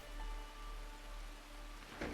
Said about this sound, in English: I think it's raining in the hideout right now.